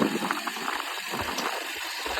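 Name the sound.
Hero Splendor motorcycle engine idling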